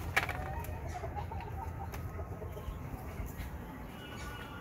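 Domestic chickens cluck intermittently close by during heavy rain, their calls sitting over a steady broadband hiss that fills the whole stretch.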